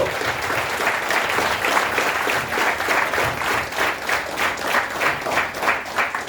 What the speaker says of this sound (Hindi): किस चीज की ताली बजी?